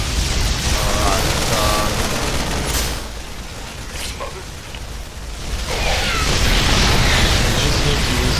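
Tanks firing in StarCraft 2 produce dense, repeated booming blasts with a rumbling, noisy wash that rises again near the end, while a person speaks briefly.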